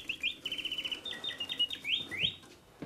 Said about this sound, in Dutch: Vogelkooi met mechanische vogel, met mooie zang